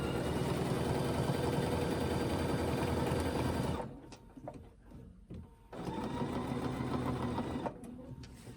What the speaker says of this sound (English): I'm just sewing from direction to direction.